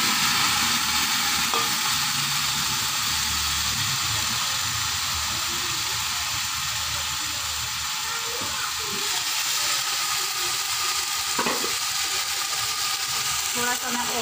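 Browned potatoes in a home cooking pan for a spiced potato-and-pea rice dish sizzle and hiss loudly and continuously after a splash of water is added, with occasional stirring scrapes.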